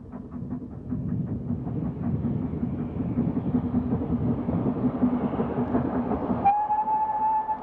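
A British steam freight train rumbles past at Bournemouth, with a steady low chugging and rattling wagons close by, then a long sustained whistle cuts in near the end over the rolling noise.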